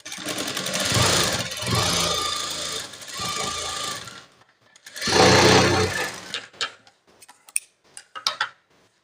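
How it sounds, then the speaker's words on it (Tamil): Sewing machine stitching plain blouse cloth at a joined, double-folded seam, running in two long steady bursts, then a pause and a shorter run before trailing off into scattered ticks and clicks. "கொஞ்சம் ஜாயின் போட்டு தான் நான் ஸ்டிச் பண்ணுறேன்"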